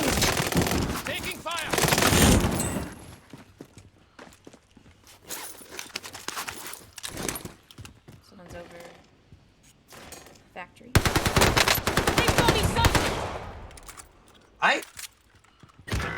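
Gunfire in Call of Duty Warzone comes in loud close bursts of rapid machine-gun shots, with a long volley at the start and another near the end, quieter shuffling and movement sounds between them, and someone talking over parts of it.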